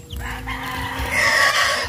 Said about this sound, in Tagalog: So nandito na po yung mga sisiw.